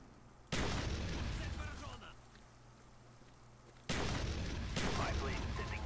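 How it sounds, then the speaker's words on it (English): Spas-12 shotgun loaded with Dragon's Breath rounds firing in a multiplayer video game, two loud booming blasts with long rumbling tails a few seconds apart, the first followed by a fading roar. "I'm gonna go see how far this thing can shoot"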